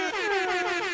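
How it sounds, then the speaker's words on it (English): A loud air horn blares in one sustained, steady blast lasting about a second, bright and brassy with no pauses. "Air horn."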